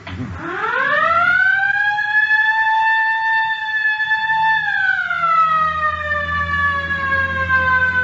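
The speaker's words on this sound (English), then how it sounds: "All right, hit the siren." A loud electronic siren holds a rising wail, sustains a steady tone, then slides slightly lower, sounding close by with a low engine rumble underneath.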